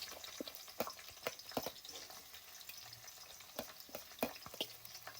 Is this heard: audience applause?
no